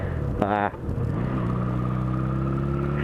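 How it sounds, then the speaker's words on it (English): Car interior drone while driving a quiet rural road past fields, with a steady low rumble, a brief rising whine early on and a faint engine tone settling in as another car follows close behind. "another car behind me"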